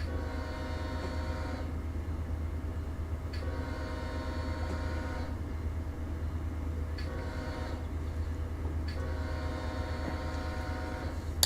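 A train rolling along a line in the Run8 Northern California train simulator game gives a loud, steady rumble throughout, with sustained horn-like tones rising and falling in repeated blasts.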